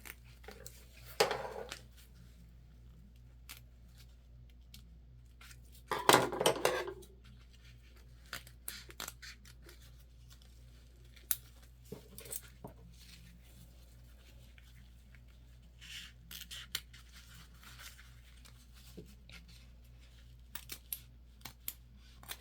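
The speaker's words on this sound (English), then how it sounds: "Just going to grab our little snips here." Small snips cutting fabric during bag sewing, a handful of brief crisp snipping sounds scattered over a quiet room with low background hum, one louder burst of cutting near the middle.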